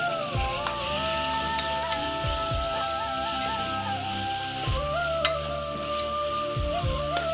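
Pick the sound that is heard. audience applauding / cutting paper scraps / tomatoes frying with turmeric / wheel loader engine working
tomatoes frying with turmeric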